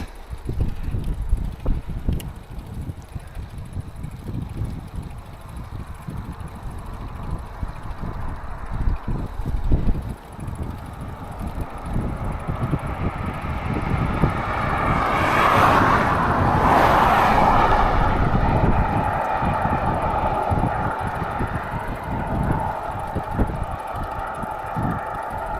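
Strong side wind buffeting the microphone while riding along a wide, flat road in farm country: a steady broadband roar and rumble that swells for a stretch midway, with no one speaking.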